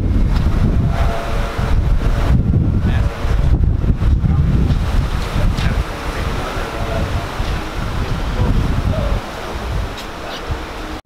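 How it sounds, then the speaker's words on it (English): Strong wind buffets the microphone outdoors at a car meet, a loud continuous low rumble with gusty surges, heavy and constant from start to finish. "it's a little bit windy, but we just got to the car meet"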